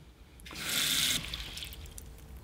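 Cold water from a kitchen tap gushes briefly into a bowl, a close, loud splashing burst lasting under a second before thinning to a faint trickle.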